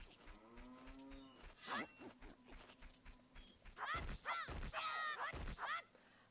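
Cows moo in the video game The Legend of Zelda: Majora's Mask, with several overlapping moos that grow louder and denser in the second half, and a faint voice-like sound early on.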